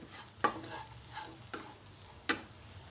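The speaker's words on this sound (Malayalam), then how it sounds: "1/2 ടീസ്പൂൺ ഗരം മസാല ഇത്രയിട്ട് നമുക്ക് നന്നായിട്ടൊന്ന് ഇളക്കി കൊടുക്കാം." Green gram and beetroot stir-fry with garam masala being stirred in a pan: a soft low sizzle broken by a few sharp spoon scrapes and knocks against the pan, fairly quiet, with no talking.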